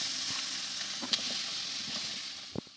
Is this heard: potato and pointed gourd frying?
yes